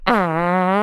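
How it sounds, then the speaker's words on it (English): A single long, loud fart with a steady buzzing tone, lasting almost a second with no talking. "No, that was a fart."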